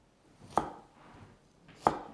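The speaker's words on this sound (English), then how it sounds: "We're going to do some julienned ginger." A kitchen knife strikes a cutting board twice, cutting ginger into julienne matchsticks for a Northern Thai pork curry, each sharp chop close and distinct with a pause of about a second between them.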